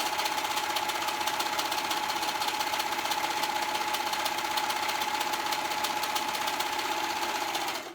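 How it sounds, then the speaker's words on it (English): A serger overlocking the raw edges of dress fabric, a fast steady mechanical whir with rapid stitching rhythm running continuously and close, then stopping abruptly at the end. "I'm gonna go ahead and finish them by, I'm doing it with my serger."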